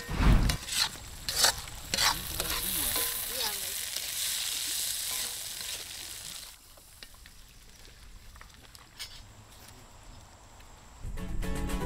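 Sayok fish from Lake Linau, Minahasa, stirred into sautéed woku spice paste in a pan, giving bursts of sizzling and scraping that fade to a quieter simmer before rising again.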